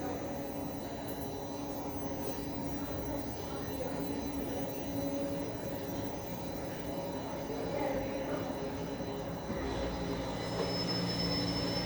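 A Toronto subway train runs at the Line 4 terminal platform, Sheppard-Yonge, a steady rumbling roar with high, thin wheel squeal sustained throughout at moderate level, no voices standing out.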